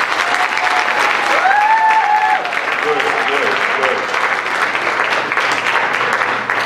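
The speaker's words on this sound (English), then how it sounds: "clap your hands" Audience at a high school spring concert clapping steadily in a dense, sustained wash of applause, with a few voices and whistles rising above it.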